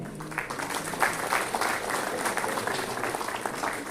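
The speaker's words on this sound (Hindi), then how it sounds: "कृपया जोरदार तालियों के साथ सबका अभिनंदन किया जाए।" Steady applause from an audience at a formal honouring ceremony held at a labour and employment studies institute in Patna, continuous and moderately loud, with a voice speaking over it.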